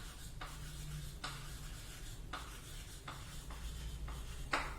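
Marker or chalk strokes on a board while working a statistics problem: repeated short scratchy strokes, fairly close and faint, in an irregular rhythm over a low steady room hum, with no talking.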